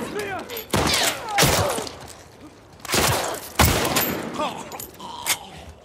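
Enemy gunfire in The Last of Us Part II: a few loud, bursting shots spaced a second or so apart, mixed with thuds, whistling tones and fainter game sounds.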